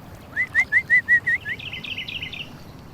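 A small bird sings nearby, giving a run of about six clear, evenly spaced rising chirps, then a quicker, higher twittering trill against a faint quiet background.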